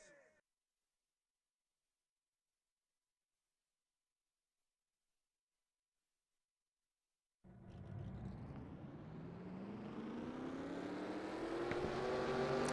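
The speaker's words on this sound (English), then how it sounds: "Drivers, start your engines!" After a long silence, a loud roar of several stock car engines in a racing video game at Oswego bursts to life at once and holds steady, swelling slightly as they idle together.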